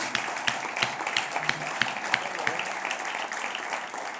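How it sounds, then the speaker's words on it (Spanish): Church congregation applause, a dense spread of hand claps with a few sharper individual claps standing out, moderately loud and fairly steady throughout. "Démosle un aplauso al Señor."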